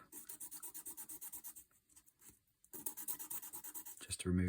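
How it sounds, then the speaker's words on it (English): Small model railway coupling parts are rubbed on a little sanding block in quick rhythmic back-and-forth strokes, close and clear, pausing briefly midway before resuming, with a faint bump at the end. "Little sanding block."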